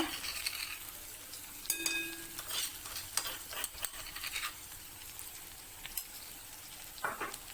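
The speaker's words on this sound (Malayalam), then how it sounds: "ഉള്ളിയും മുളകും ചേർത്തിട്ടുണ്ട്. ഇതൊന്ന് ചെറുതായിട്ടൊന്ന് മൂത്ത് വന്നാൽ മാത്രം മതി." Onions and chillies frying in a pan, giving a faint crackling sizzle broken by scraping stirs and light utensil clicks, close by and quiet with no voices.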